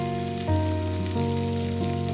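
Ivy gourd frying in oil, a continuous dense crackling sizzle heard close and alone, steady throughout with a faint underlying hum and no talking.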